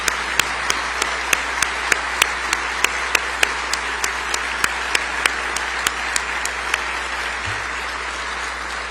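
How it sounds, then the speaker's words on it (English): An audience gives a sustained round of applause for law enforcement officers, dense steady clapping with a few sharp louder claps standing out at regular intervals, continuing throughout. "let us give you a round of applause and thank you for all that you've done"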